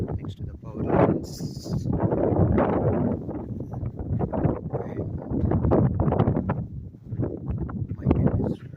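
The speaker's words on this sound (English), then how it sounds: "As you can see, it is flipping and flopping in the wind" Strong wind batters a camping tent pitched in a valley near a reservoir and power lines, with loud gusty roaring and irregular flapping bursts continuing throughout and buffeting the microphone.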